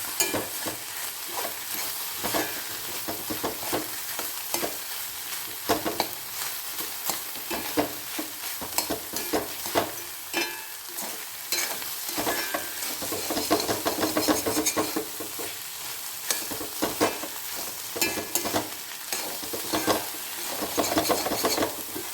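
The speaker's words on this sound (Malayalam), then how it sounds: "എല്ലാം കൂടിയിട്ടൊന്ന് മിക്സ് ചെയ്തെടുക്കാം" Ivy gourd and egg thoran is stirred and fried in a pan, giving a steady, close sizzle with continuous scraping and stirring strokes throughout and no talking.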